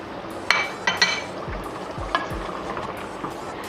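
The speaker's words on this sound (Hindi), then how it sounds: "जब तक चिकन घी नहीं छोड़ देगा जब तक मैं इसको अच्छी तरह से भूनूंगी" Two kilograms of chicken frying in masala and ghee in a pot, a steady close sizzle with spoon scrapes and clinks against the metal at irregular intervals, no talking.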